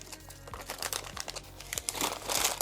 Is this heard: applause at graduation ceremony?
no